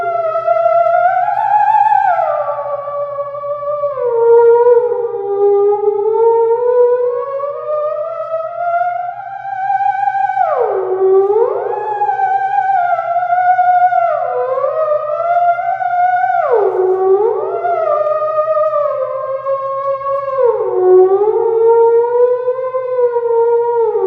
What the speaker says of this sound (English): This is a theremin. It's a 1920s electronic instrument.